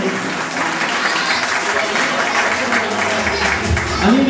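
An audience at a Christmas program claps together in sustained, even applause that stays loud and dense throughout, with a brief voice rising near the end.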